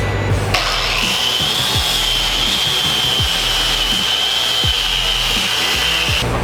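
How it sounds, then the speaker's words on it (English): Angle grinder spinning up before grinding a weld start, a steady high-pitched motor whine holding constant for several seconds, loud and close, with faint low knocks and handling noise beneath and no talk. "So grab the grinder here."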